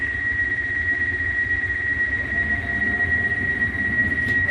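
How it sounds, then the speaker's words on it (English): Last evening passenger train running between Stirling and Alloa in Scotland, a steady loud rumble of wheels and carriage with a constant high whine throughout and no voices. "This is just the last train from Stirling to Alloa"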